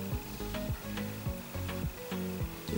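Scissors snipping through loops of wrapped yarn, a steady series of crisp cuts repeating about every half second, close and fairly quiet with no talking.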